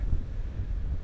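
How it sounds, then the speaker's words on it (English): Strong wind buffets the microphone on an open frozen lake during first-ice fishing, a steady low roaring rumble with gusty swells that lasts throughout, with no talking. "Wow, it's windy."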